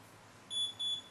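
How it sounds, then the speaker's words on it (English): Two short high-pitched electronic beeps in quick succession from a galvanic spa skin device signalling completion, over a quiet background hum. "the double beep and the check mark means that it's done"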